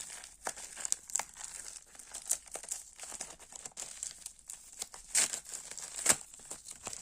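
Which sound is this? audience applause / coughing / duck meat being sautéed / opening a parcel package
opening a parcel package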